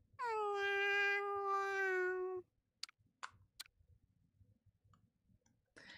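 A cat in a video game meows once, a long clear drawn-out cry, followed by a few soft clicks and ticks in near silence.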